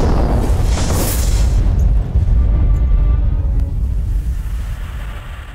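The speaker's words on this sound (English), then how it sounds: "Muto's device has destroyed Planet Midway." Planet Midway blown apart in the PS2 game Dr. Muto, a massive rumbling boom that bursts in loudly and then rolls on as a deep, churning roar, slowly thinning over several seconds.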